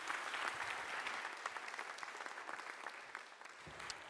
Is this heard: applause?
yes